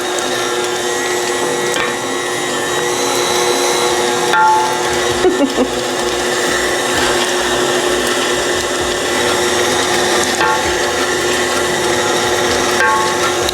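A meat grinder works through two pounds of meat for homemade breakfast sausage, giving a steady, loud mechanical whirring and grinding that runs unbroken the whole time, with occasional rubbing knocks.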